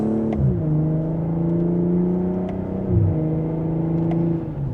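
A 2025 BMW M440i Convertible pulling away in sport mode in second gear: a smooth, loud engine note rising steadily in pitch, dipping briefly at a shift near the end, heard close from inside the cabin without talk.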